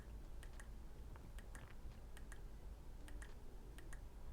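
Sharp, quiet clicks of an iPhone 13 Pro power button pressed through a black Ringke Fusion X case, a series of separate taps in small groups in a quiet room.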